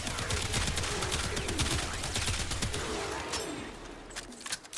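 The Astilla Prime shotgun fires repeatedly in Warframe, a rapid run of sharp, loud blasts mixed with impact crackle and game effects that thins out toward the end.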